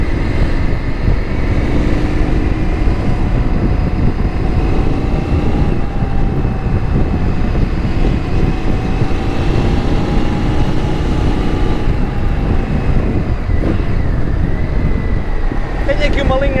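An Indian FTR x RSD Super Hooligan motorcycle with Akrapovič-style exhausts riding at a steady pace, its engine a constant loud drone with subtle pitch shifts and wind rush, a brief change near the end.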